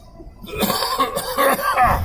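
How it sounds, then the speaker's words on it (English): A person coughs several times in a rough, hacking burst, close to the listener, with a short quiet moment before the coughing begins. "cough just started up again this morning"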